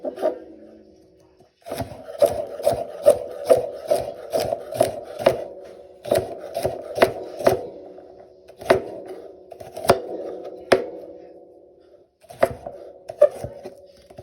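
Knife chopping vegetables on a cutting board for short ribs gravy, quick close rhythmic taps in bursts separated by short pauses, no talking.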